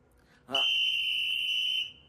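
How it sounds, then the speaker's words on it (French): A single sustained, shrill whistle tone starts abruptly and holds steadily for over a second before cutting off, loud and close. "je ne veux plus entendre de sifflet à table"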